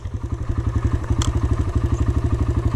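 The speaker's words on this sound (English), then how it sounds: "So you start the bike, right?" A dirt bike engine fires and settles into a rapid, loud, thumping idle, a steady pulsing chug close by with no voices.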